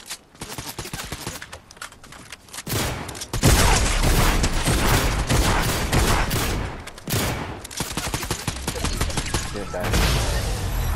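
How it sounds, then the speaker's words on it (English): Rapid Fortnite gunfire rattles in heavy bursts, quieter at first, then surging loud and close. It breaks off briefly and resumes in dense volleys, with voices in the background at times. "The other one's shooting me."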